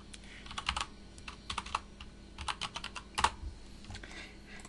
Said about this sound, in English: And we can type in our password.